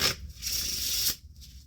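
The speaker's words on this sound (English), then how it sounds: "Have someone shuffle each one and shuffle the other one." A quick, crisp riffle of cards being shuffled, a papery fluttering burst lasting about a second, then a soft shuffle-tap as it settles.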